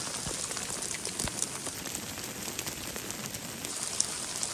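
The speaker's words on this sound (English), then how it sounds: "It's actually hailing." Dense, steady patter of hailstones or heavy drops striking surfaces nearby, a constant crackling hiss with occasional sharper ticks.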